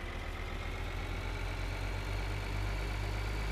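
A tractor engine in Farming Simulator 2013 runs at a steady low idle, a constant droning rumble with no pauses and no talk over it.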